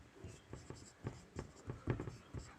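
Pen writing on paper during a class 10 geometry lesson, heard as a series of soft, close scratchy strokes in an uneven rhythm, quiet and alone.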